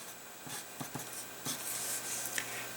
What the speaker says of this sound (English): maybe I'll just write it up here